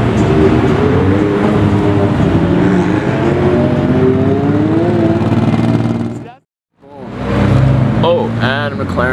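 Black MSO McLaren 600LT driving on a race track, its engine roaring loud and sustained as it passes, dropping away briefly before revving hard again, with people talking over it.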